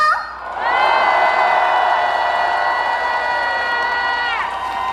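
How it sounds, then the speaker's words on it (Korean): An audience at the Danyang Sobaeksan azalea festival concert cheers loudly. A sustained roar of shouting and whooping rises sharply and holds for several seconds, with clapping underneath. "여러분, 소백산이 흔들릴 정도로 다 같이 힘차게 박수와 함성!"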